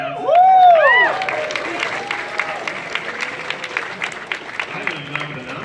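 An audience at an Anime Expo panel for game studio Lab Zero bursts into applause after a shouted cheer, then the clapping thins out and continues under a speaker's voice.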